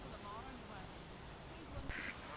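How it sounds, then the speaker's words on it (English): Ducks quacking faintly among geese in a pretty town setting, a few short calls under soft background noise and a voice. "Oh, there's some ducks as well."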